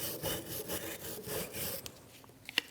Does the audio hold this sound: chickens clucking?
no